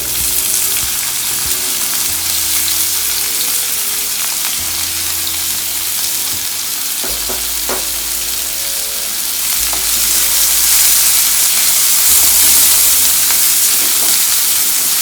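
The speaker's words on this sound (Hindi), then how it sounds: "अनियन को अच्छे से फ्राई होने देना है हमें" Onions sizzle and fry steadily on a tawa after cumin and mustard seeds, a dense continuous hiss with occasional stirring scrapes and clicks, close and fairly loud throughout with no talking.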